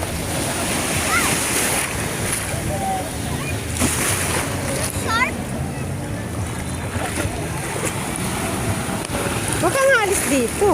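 Ocean waves surging and sloshing under strong wind buffeting the microphone, with an engine-like rumble and faint voices in the background.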